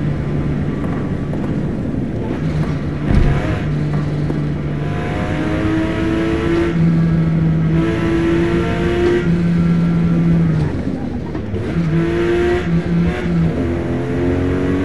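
A racing car engine in Forza Motosport at Virginia circuit, loud and close, revving up through the gears in rising whines, easing off and climbing again over a steady rumble.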